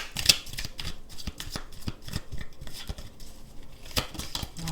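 Tarot cards are shuffled by hand in quick, close, papery riffles and flicks, with soft irregular slaps as cards slide and one turns over.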